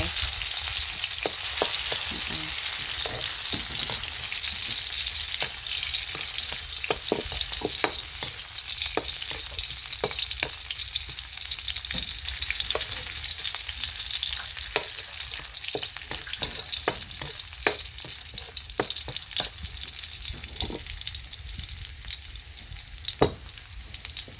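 Squid and napa cabbage stir-frying in a hot pan give a steady, close sizzle that runs the whole time, with frequent sharp clicks and scrapes from a utensil stirring the food.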